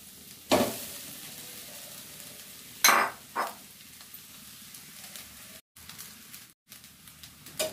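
Rice with garam masala stirred in a pan: sharp scraping strokes and bursts of sizzle at irregular intervals over a soft frying hiss, close and with no voices.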